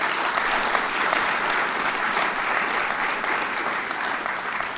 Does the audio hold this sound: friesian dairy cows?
no